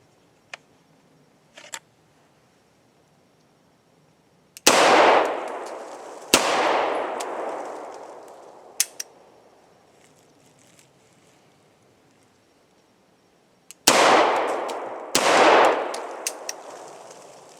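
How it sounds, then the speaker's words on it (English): Four sharp, loud double-action pistol shots ring out at an indoor range, with the target nine feet away. They come in two pairs, each blast followed by a decaying echo, with faint clicks in between. "this is a great way to make sure you're getting practice on those double action shots"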